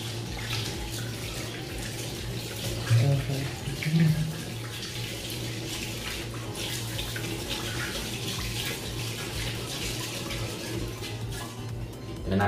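Tap water runs steadily into a basin while hair dye is rinsed out, a close, continuous splashing rush with brief louder surges from handling.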